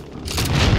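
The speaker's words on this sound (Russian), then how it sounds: "Выстрелы!" A short burst of rapid gunfire in Call of Duty: Warzone on Rebirth Island rumbles and booms, building in loudness over under a second, with no voices.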